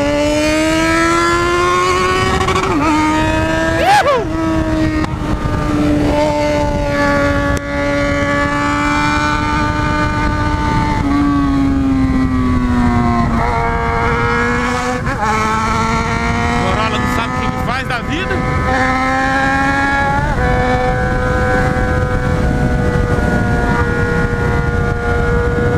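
A motorcycle engine revs hard while being ridden, its tone rising and falling through gear changes, loud and close, with someone talking over it throughout.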